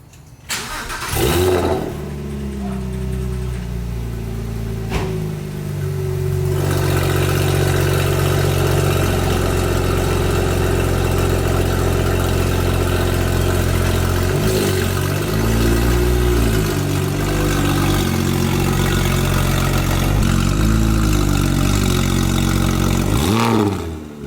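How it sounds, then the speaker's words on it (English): A loud Porsche engine fitted with Soul headers starts with a roar, then holds a heavy exhaust drone, rising and falling in repeated revs and flybys over a long stretch. "give you guys some flybys and some exhaust noises."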